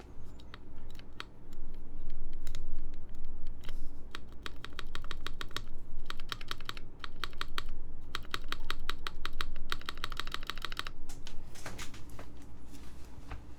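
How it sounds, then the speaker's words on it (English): Typing on a prototype mechanical keyboard, with bursts of rapid close-up key clicks and keycaps clacking, broken by brief pauses and set over a low background hum. "it is possible that the keycap's hitting something, which I kind of hear it when I hit it harder"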